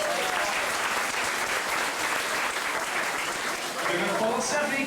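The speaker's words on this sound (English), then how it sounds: "Let's give our volunteers a little thunderous round of applause." Studio audience on the Disney-MGM Studios Backlot Tour applauding its volunteers, a steady, full round of clapping that holds evenly for several seconds with voices murmuring underneath.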